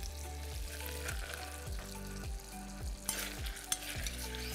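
Strawberries frying in butter with garlic in a pan, a close steady sizzle broken by repeated stirring scrapes of a utensil against the pan, with a couple of sharper clinks near the end.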